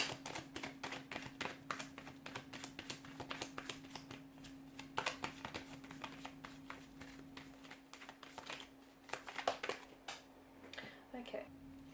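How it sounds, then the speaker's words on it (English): Tarot cards being shuffled close up, rapid riffles and soft slapping in repeated bursts over a low steady hum. "let's go ahead and give the cards a shuffle."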